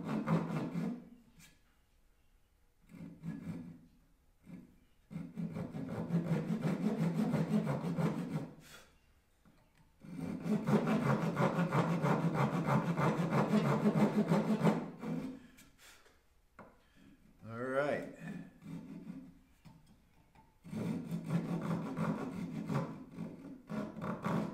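A walnut axe wedge is cut with a hand saw in several bursts of steady back-and-forth strokes, close and clear, separated by short pauses.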